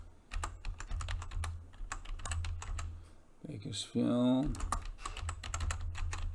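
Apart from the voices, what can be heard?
typing text on a computer keyboard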